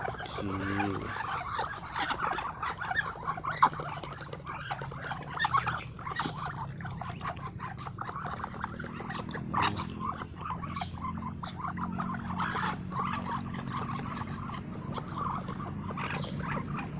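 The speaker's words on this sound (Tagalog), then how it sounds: "Ito yung mga manok." Chickens and ducklings cluck and chatter in a busy farmyard, many scattered calls overlapping at moderate distance, with background rustling and occasional voices.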